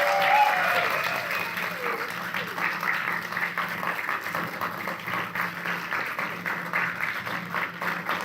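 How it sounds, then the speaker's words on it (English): A film festival audience applauds the two winners, sustained clapping that swells at the start and continues steadily with a few faint voices mixed in. "Let's get a round of applause for the two winners."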